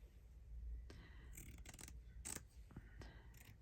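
Scissors snip through paper in a stitchery journal, several short crisp cuts and scrapes clustered unevenly, faint and close against a low background rumble.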